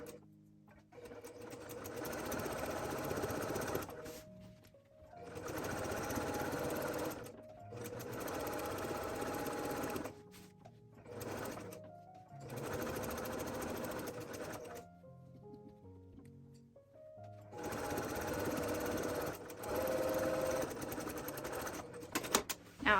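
Domestic sewing machine stitching a quarter-inch seam through fabric squares, running in several sustained bursts of steady motor whir separated by short pauses, close and fairly loud.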